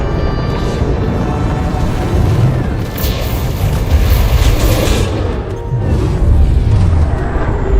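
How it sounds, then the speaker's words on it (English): Shock cannons fire in a video game with a rapid, machine-gun-like stream of heavy booming shots. The barrage is loud, dense and continuous throughout, with no voices. "I like the machine gun effect of like the shock cannons"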